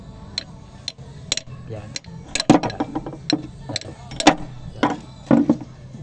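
Repeated irregular metallic strikes ring out as a wrench is hammered to free a diesel injector on a Starex, with sharp close hits clustered in bursts and someone speaking briefly between them.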